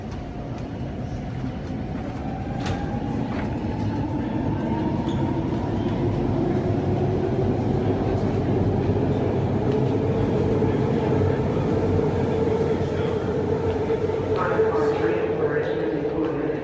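A train rolls into a station, a loud steady rumble with rising whine and faint wheel squeal building over several seconds, while people talk nearby.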